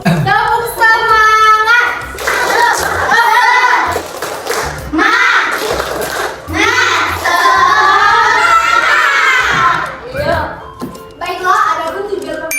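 Students in a classroom perform the tepuk semangat clapping chant, rhythmic group hand claps mixed with children's chanted voices, bursts of clapping and singing for most of the stretch.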